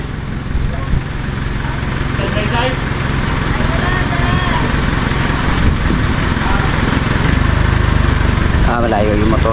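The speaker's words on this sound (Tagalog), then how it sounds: "Yung motor, di sabitin." A motorcycle runs at a delivery of sand and gravel, its engine a loud, continuous drone that holds steady throughout, with people talking over it.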